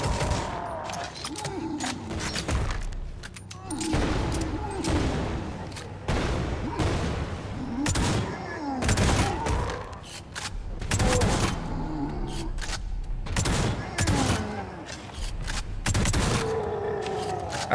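Shotgun fire in the video game Necromunda: Hired Gun, heavy repeated blasts in rapid clusters amid dense combat noise and explosions, loud and close across the whole stretch.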